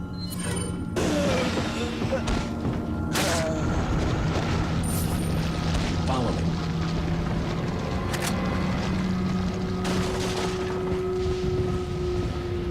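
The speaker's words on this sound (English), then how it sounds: "it was just quicker to throw a flash grenade" Flash grenade going off in Resident Evil 4, a sharp burst followed by ringing, booming game audio with scattered impacts and a narrator speaking over it.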